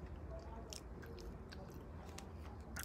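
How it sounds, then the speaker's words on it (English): Close-up crunchy chewing after a bite of a birthday cake protein bar with a crispy top, with soft crackles and steady mouth noises, quiet and continuous. "So let's give this a big bite."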